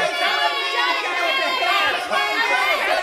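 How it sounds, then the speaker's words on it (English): Children cheer and shout together as a dense, continuous crowd at a kindergarten through eighth grade gathering, loud and sustained for the whole stretch with excited voices overlapping. "Start cheering now."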